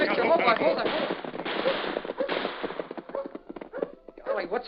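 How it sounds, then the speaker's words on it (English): Rapid gunfire crackles in an Old West radio drama, with horses and riders caught near a ravine; sharp shots rattle in quick bursts throughout, loud and close, under raised voices of people talking. "We seem to have run into a gunfight."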